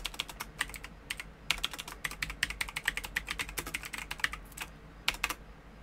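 Fast, irregular clatter of a computer keyboard as a short mod name is typed, crisp close keystrokes in bursts with brief pauses, no voice.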